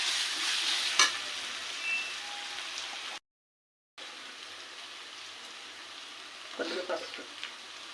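Ginger paste and onions fry in a pan with a soft, steady sizzle and a few spoon clinks, cut by a brief gap midway, and a quieter stretch before more stirring near the end.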